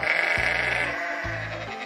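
Sheep bleating as a story sound effect: two loud, close, drawn-out bleats in a row, each lasting about half a second, with no talk.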